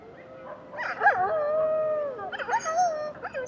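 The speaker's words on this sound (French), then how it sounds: "le loup n'aboie pas. Il grogne, il gémit et surtout il hurle." A wolf howls, long wavering tonal calls rising and falling with a few yelping breaks, fairly close and clear against a quiet background, no talking.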